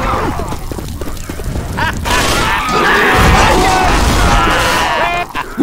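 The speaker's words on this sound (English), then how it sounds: "Molotov coming!" Molotov cocktail fire bursting in Left 4 Dead: a loud, broad roaring whoosh that swells and holds for several seconds, merging with chaotic game noise and shouting players.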